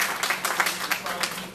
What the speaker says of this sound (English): Give yourself a round of applause for your faithfulness and your dedication.